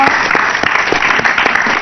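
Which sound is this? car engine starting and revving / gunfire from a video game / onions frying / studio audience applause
studio audience applause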